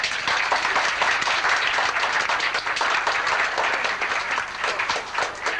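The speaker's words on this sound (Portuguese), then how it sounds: "Uma salva de palmas para eles." Loud, sustained applause from a crowd at a youth Spiritist gathering in Portugal, with clapping that stays steady and dense throughout.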